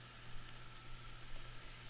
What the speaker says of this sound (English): If it sizzles, it means it's ready to go.